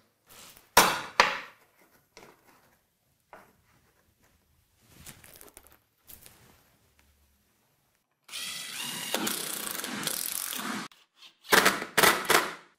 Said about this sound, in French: Nous fournissons des vis autoforantes directement à visser euh, dans la lame finale, de cette manière